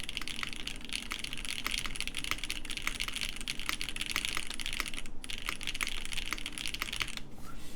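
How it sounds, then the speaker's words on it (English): Fast, steady typing on a mechanical keyboard fitted with granite switches on the alpha keys, a dense stream of crisp close clacks with a brief pause near the end. "This configuration actually sounds good with these granite switches on the alphas."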